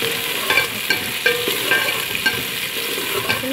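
Okra (lady finger) fries in a pan with a bright, constant sizzle, and a utensil scrapes and taps against the pan at a regular pace.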